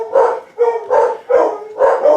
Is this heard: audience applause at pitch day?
no